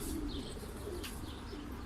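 Pigeons arriving at a tree in warm weather give soft cooing calls and faint chirps, fairly close, over a low rumbling background.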